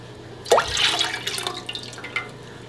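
Apple juice and white balsamic vinegar pour into a stock pot for a water-bath canning recipe, giving a brief, close splash of liquid that trails off into light trickling and drips.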